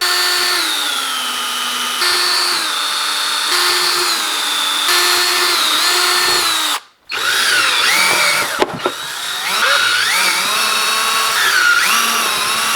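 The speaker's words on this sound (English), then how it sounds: "gonna break out the drill, get drilling on this thing" A power drill runs loud and close, its motor pitch rising and falling as it bores through a metal fender on a CR250R two-stroke motorcycle build, with a brief stop midway before resuming.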